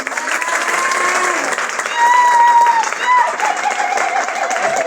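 A church congregation claps and cheers steadily, a full crowd roaring close and loud with raised voices and whoops rising in the middle.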